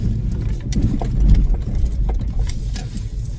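A car passes very close on a road in Canada, a loud, rumbling engine and tire roar that swells and stays broad and near throughout, with no voices.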